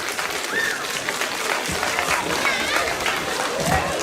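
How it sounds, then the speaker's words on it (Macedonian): A large crowd at an outdoor children's festival on the ethno square in Berovo claps strongly. The applause is dense, steady and sustained, with cheering and a few voices mixed in. "Сакам да чуам еден силен аплауз."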